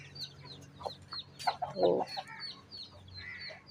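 A rooster crows and clucks nearby outdoors, with chicken calls rising and falling over a few seconds and a brief spoken word.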